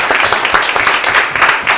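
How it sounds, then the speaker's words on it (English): A town board meeting audience claps for a departing supervisor, a short, close patter of several hands applauding with an uneven rhythm throughout. "We'll give a round of applause to Jim for his service"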